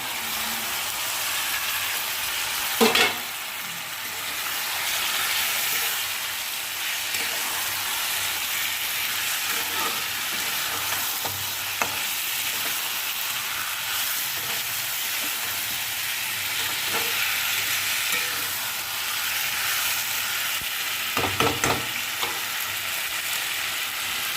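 Grated tomato and green chilli frying in a pan, a continuous close sizzle with a few sharp spatters and stirring scrapes, no voices.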